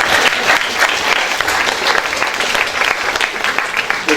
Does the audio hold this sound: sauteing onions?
no